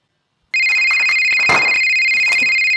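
A mobile phone starts ringing abruptly after a moment of silence, a loud, close electronic ringtone with steady tonal beeps that carries on to the end.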